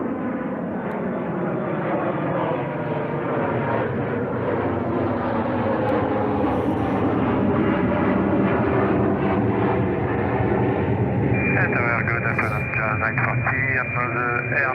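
An Airbus A350-941 airliner arriving from CDG Airport gives a loud, steady jet engine roar throughout, with a high whine rising near the end; radio chatter may mix in with the engine noise.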